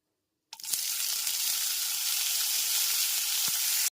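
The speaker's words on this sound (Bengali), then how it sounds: "এরপর এর মধ্যে দিয়ে দিচ্ছি দুটো ছোট সাইজের টমেটো কুচি" Chopped tomatoes hit hot oil with bay leaves over a low flame, bursting into a loud, steady sizzle that holds throughout, with a couple of brief stirring knocks.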